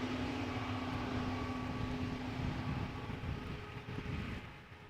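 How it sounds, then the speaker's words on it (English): An Embraer E195-E2 airliner arrives at Amsterdam Schiphol with a steady broad jet roar that holds, then begins to fade near the end, heard alone without talk. "E2 Embraer 195 arriving from Aberdeen, flight 1442"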